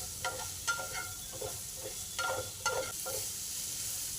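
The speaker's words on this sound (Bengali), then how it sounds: "দেওয়ার পর কিছুক্ষণ নাড়াচাড়া করব।" Vegetables with turmeric and black salt stirred in a pan: faint, soft scraping strokes repeat in an uneven rhythm over a low background hiss, with no voices.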